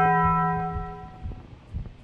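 A single struck metallic gong in the Lunch Lady horror video game rings out with a bright tonal clang that slowly decays, followed by faint thuds and footsteps.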